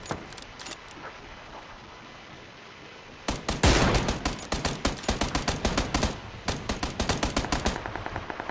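Bursts of gunfire in the video game Apex Legends, with rapid automatic volleys starting after a few quiet seconds, then repeated loud sharp shots and short strings of fire continuing to the end.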